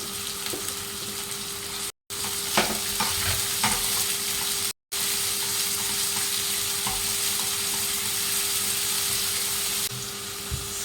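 Garlic and onion frying in a pan for aloo palak, a continuous steady sizzle with occasional stirring scrapes and clinks, close and alone, with two brief dropouts.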